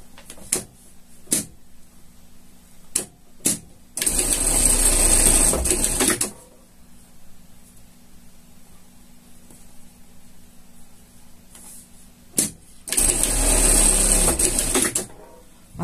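A sewing machine stitches ribbing fabric for a shark costume in two loud runs of about two seconds each, separated by quiet handling and a few sharp clicks.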